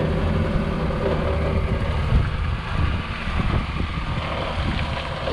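An EF Honda Integra engine idles steadily after being restarted once a faulty coolant temperature sensor was unplugged, giving a continuous low rumble with a slight uneven pulse and no speech.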